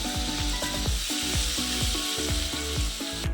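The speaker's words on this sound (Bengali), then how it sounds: "এবার আলুগুলো দিয়ে দেবো এবার একটু নেড়ে চেড়ে নেবো" Potatoes fry in a pan, with the saucepan of aloo gime shak close by: steady loud sizzling runs throughout, broken by repeated scraping strokes of a spoon stirring the pieces at a quick, even rhythm, with no voices.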